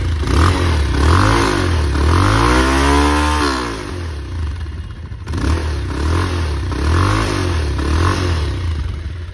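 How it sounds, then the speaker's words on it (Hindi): A Bajaj Pulsar 220F motorcycle revs up and settles back several times, its exhaust note rising and falling in loud, close pulls with a rough, throaty edge. "यहाँ पे हमारा 220F का एग्जॉस्ट नोट आप सुन रहे हैं"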